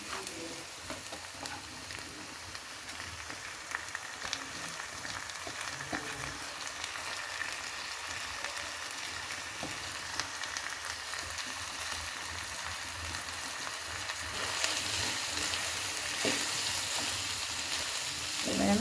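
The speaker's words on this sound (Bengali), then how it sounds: "চাল আর ডালগুলো ভেজে নিতে থাকবো" Rice and lentils fry with spices in a pot while being stirred for chicken bhuna khichuri, a soft, steady sizzle with faint scraping that swells slightly louder near the end.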